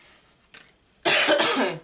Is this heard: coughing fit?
yes